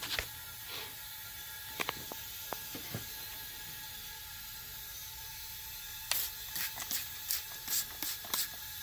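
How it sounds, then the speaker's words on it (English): Leak-check spray is applied to the rubber boost pipe on a Volvo VNL truck: several short hissing bursts in quick succession near the end, after scattered clicks and knocks over a low, steady hum. "I spray the whole rubber pipe because sometimes these metal rings will rub through and it'll leak"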